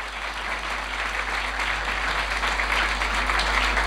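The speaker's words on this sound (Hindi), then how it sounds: "जोरदार ताली यसु मसीह के जलाल के लिए" A church congregation breaks into loud, sustained applause during a Christian service, a dense, even roar of many hands that holds steady and builds slightly to the end, with no voices on top.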